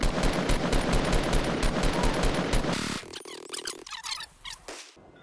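Gunshots in the Fortnite video game, a dense rapid volley of fire for a few seconds that cuts off into sparser, quieter shots and squeaky effects.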